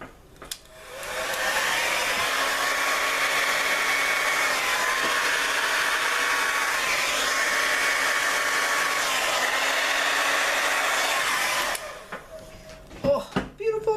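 Steady, loud rush of air from a blower or hair dryer aimed at an acrylic paint pour, running continuously for about eleven seconds before cutting off, followed by a few faint clicks and knocks.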